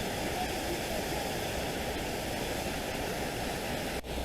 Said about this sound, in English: one last little shot of the falls here before we go